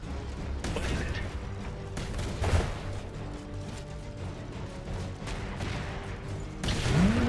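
Battle gunfire in the video game Iron Harvest, set in 1920 with mechs and a cannon tower, forms a dense, steady din of rapid shots, mechanical clatter and heavier booms, with a louder burst near the end.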